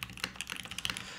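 Space bar of a mechanical keyboard in an aluminum top-mount case, tapped repeatedly in quick succession, producing close, crisp clacks with a slightly hollow body.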